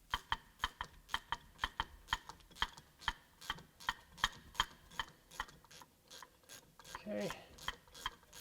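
A hand ratchet threads driveshaft bolts on a 2015 Jeep Cherokee, its close, crisp clicks coming in a steady run of repeated strokes with brief pauses, and a short spoken word near the end.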